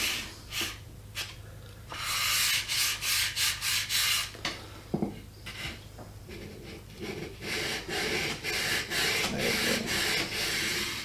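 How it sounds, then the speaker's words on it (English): A sanding block being rubbed along a wooden rifle stock to smooth the grain: repeated rhythmic back-and-forth scraping strokes, close and fairly loud, in short bursts with brief pauses between. "So you're just smoothing out the grain."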